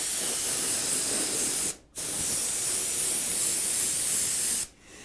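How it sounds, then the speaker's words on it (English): An airbrush sprays paint in feathered passes along the legs of a model Thoroughbred horse, giving a steady close hiss that stops briefly twice as the trigger is released. "bringing my airbrush back and just feathering it up."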